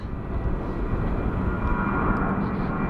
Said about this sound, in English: There's one taking off up here. Jetstar.